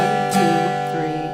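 An acoustic guitar chord is struck and left ringing, its strings sustaining and slowly fading with no muting, close and clear.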